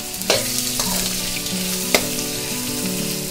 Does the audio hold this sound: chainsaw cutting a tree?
no